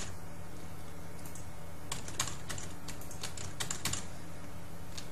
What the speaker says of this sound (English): Just type random letters.